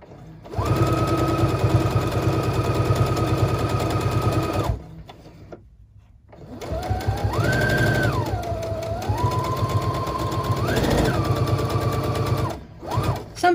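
A sewing machine stitching patchwork fabric backed with gridded interfacing, a loud close rapid whirring chatter in long runs whose pitch rises and falls with speed, pausing once briefly.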